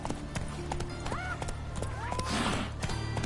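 A horse in a PS4 video game trots with steady clip-clopping hooves and lets out a short whinny, and a voice is heard faintly alongside.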